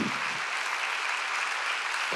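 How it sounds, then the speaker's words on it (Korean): Church congregation at an Easter Sunday service claps together in a short, even burst of applause lasting about two seconds. "빨리 박수 치라고요."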